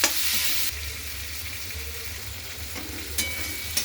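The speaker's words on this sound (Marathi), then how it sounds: "टोमॅटो छान परतून घ्यायचा।" Chopped tomatoes sautéed in a pan with spices for a tomato chutney give off a steady low sizzle and crackle, with a few sharp utensil clicks toward the end.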